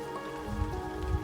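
Steady rain patters on foliage along a sheltered public bridleway in Devon, a dense close hiss with a few heavier drops thudding through, continuous with no voices.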